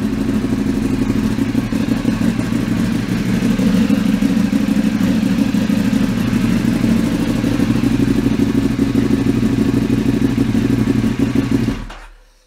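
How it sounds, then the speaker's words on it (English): A Ducati motorcycle engine, just repaired after an injector and pump relay fault, runs steadily and loudly close by for about twelve seconds with a constant low rumble, then cuts off abruptly at the end. "Let's test and start the bike."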